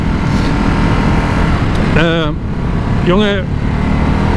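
Ducati SuperSport 950 S with its V2 engine running at low revs and shaking, a steady rough engine drone throughout with someone talking over it.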